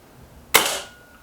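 A single Kral Pro 500 air rifle shot fired at a target card: one crisp, sharp crack with a short, fading tail, alone with no talk.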